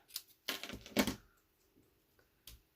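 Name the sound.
snipping paper edge with snips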